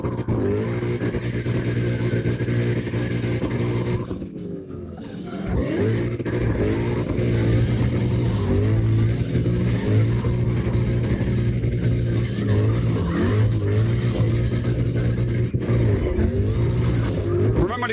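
Engines rev and whine as cars drift in tandem in CarX Drift Racing online, including a Mustang, with tire squeal and pitch sweeps rising and falling continuously, briefly dipping midway before surging again.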